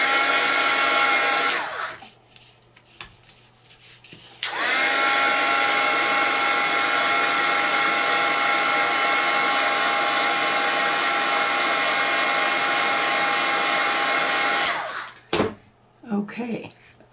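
A hair dryer blows steadily on a paper image transfer, a loud continuous whir running about eleven seconds after a short burst, with handling noise in the gaps and at the end.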